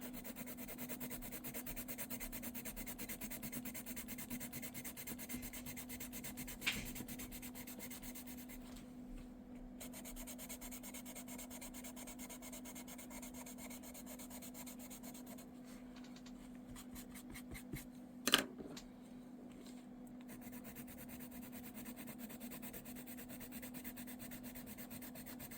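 Derwent Lightfast colored pencils blended across paper give a soft, continuous rubbing hiss at low level, steady throughout with a couple of brief faint taps.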